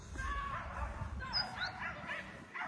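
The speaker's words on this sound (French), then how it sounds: "Il y a des chiens qui se bagarrent, on entend crier comme tout." Dogs fight on a busy walking path, giving off a quick run of high yelps, whimpers and short barks, moderately distant and mixed with outdoor background noise.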